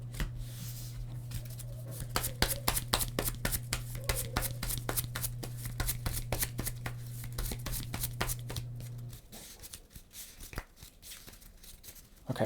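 Cards are drawn and handled in a Legendary Bond 007 deck-building card game with the No Time to Die expansion: a rapid run of light, crisp flicks and slides over a steady low hum, then quieter scattered handling.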